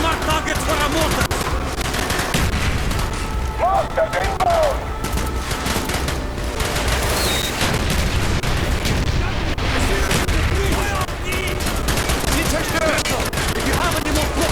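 Continuous battlefield gunfire in the shooter Call of Duty: Black Ops, with mortar rounds mixed into dense rifle and machine-gun bursts, loud and sustained throughout, with shouted voices in the chaos.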